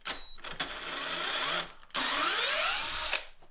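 A Stanley SCD121 lithium-ion cordless drill on its low setting driving a big screw, two close sustained whirring runs with a brief pause between, motor pitch sliding as the screw goes in.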